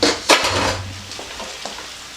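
Stir-frying Chinese cabbage, garlic and noodles for pad see ew in a hot pan, a close sizzle with sharp utensil scrapes and clanks at the start, then settling into steady frying.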